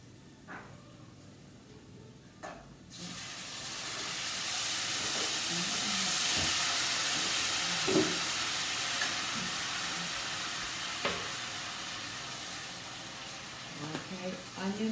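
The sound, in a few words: tomato sauce added and stirred in a sizzling pan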